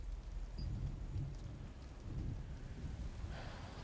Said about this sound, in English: Oh, is it Magic Rain?